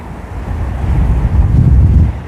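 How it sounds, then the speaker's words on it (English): Strong wind gusts buffet the microphone on a cold New York City street in winter, a steady low roar that swells louder toward the end with no voices. "It is windy here in New York City."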